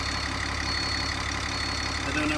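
An old front-engine bus idling after a long sit with low batteries, a steady droning engine rumble throughout, close and fairly loud, with no talking.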